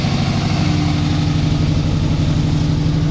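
A 1976 Ford F-100 Ranger pickup's 5.8-liter engine idles steadily, deep and throbbing with a constant low rumble and vibration, close by and unchanging throughout.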